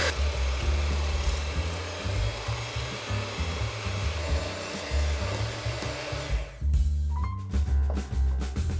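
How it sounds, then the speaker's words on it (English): An electric mixer whipping a sugar and vanilla mixture for crepe topping on high speed, a loud steady motor whine that drops and stops near the end, followed by faint clinks. "Using an electric mixer, heat the mixture on high speed until it becomes thick and fluffy."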